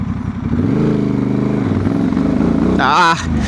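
A remapped Honda Transalp 750 motorcycle accelerates hard from a standstill, its engine note climbing loudly and close through the revs before a sharp gear-shift break and renewed pull.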